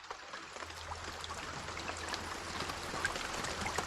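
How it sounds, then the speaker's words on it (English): A storm in the game Escape the Pacific brings a soft, steady wash of rain with scattered droplet patter and a low rumbling undertone, gradually swelling a little louder. "That sounds like a bad storm."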